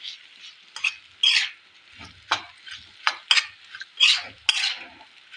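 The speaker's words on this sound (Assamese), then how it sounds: "আপুনি ধুনীয়াকৈ গুড়টো মিক্স কৰি ল'ব ইয়াত" Jaggery mixture for otenga (elephant apple) jam stirred in a pan with a spoon: a series of scraping, clinking strokes at an uneven rhythm, close and clear, with no talking.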